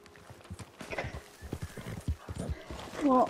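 In the video game Red Dead Redemption 2, a horse's hooves clip-clop in a quick, uneven rhythm over ground, ending with a short whinny, all fairly quiet and close.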